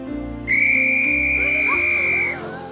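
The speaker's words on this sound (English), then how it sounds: "He blow his whistle." A single shrill whistle blast, loud and sustained for nearly two seconds, then cuts off, with no voices.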